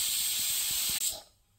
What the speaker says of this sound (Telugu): ఇలా గుత్తి వంకాయలా కట్ చేసుకుని లైట్గా ఆయిల్ వేసుకుని ఫ్రై చేస్తున్నాను.